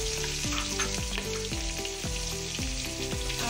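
Onions sizzle steadily in hot oil with roasted garam masala for a khichdi, a dense continuous frying hiss with regular stirring scrapes, close and loud, no voices.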